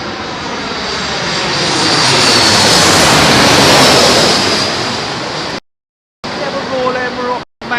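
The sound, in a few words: Boeing 737 Max jet with LEAP engines arriving at Heathrow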